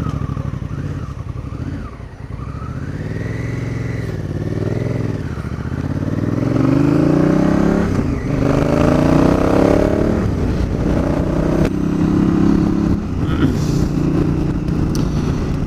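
A Honda Africa Twin motorcycle engine hums and rises through several gear changes while riding, close and steady, with wind rush and light clatter underneath and brief voices over it.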